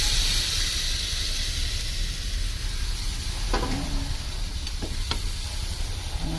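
Pork sautéed with garlic and onion simmers in its marinade, a constant loud sizzling hiss with a few spoon scrapes and taps near the end, close by and with no talking.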